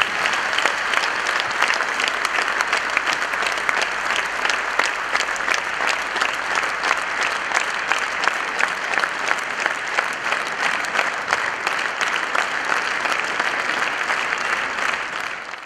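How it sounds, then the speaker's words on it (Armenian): A concert audience applauds to welcome a band, with steady, dense clapping sustained throughout at a loud, even level and no voices standing out. "ձեր ծափահարությունները խնդրեմ"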